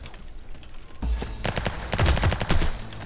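Rapid bursts of gunfire from the video game Gene Shift Auto, dense overlapping shots and booms starting after a quiet second and growing louder and more frantic toward the end.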